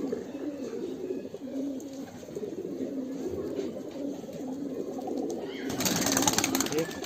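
Muki green pigeons, including a newly paired hen, coo in soft repeated rolling murmurs from close by. Low voices and ambient room noise sit underneath, and a rustle rises near the end.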